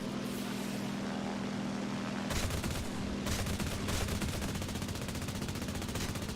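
Rapid bursts of aircraft cannon fire from a German IL-2 in the game War Thunder rattle over a steady engine drone, the shots coming in fast rhythmic volleys.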